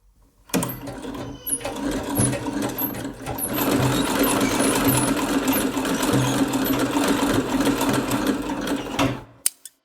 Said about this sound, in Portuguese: Máquina de costura Axel na cor preta